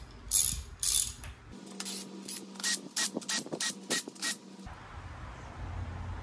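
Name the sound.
ratchet tightening a 10 mm bolt on a Celica engine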